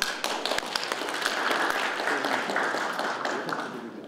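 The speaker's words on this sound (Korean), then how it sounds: "박수 다시 한번 보내주시고요" A crowd at an inauguration ceremony claps steadily for several seconds, a dense patter of hands with a few sharper taps standing out near the start.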